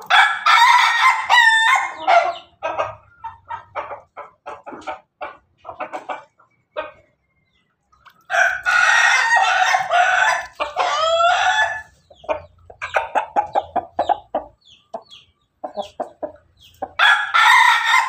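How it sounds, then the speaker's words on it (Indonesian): A rooster crows loudly and close several times, each call a long, strained cock-a-doodle-doo, with short pauses and softer clucking between the bursts. "ayam"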